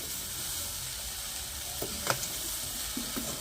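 Raw anumulu beans sizzle in a hot pan with a steady, even crackle, broken by a few sharper clinks and stirs near the end, close up and with no voices.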